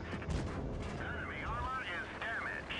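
A tank cannon shot in World of Tanks Blitz, fired by an IS-6 and striking the upper armor plate, most likely with an APCR round: a single heavy blast near the start, followed by rumbling battle noise as a person talks over it.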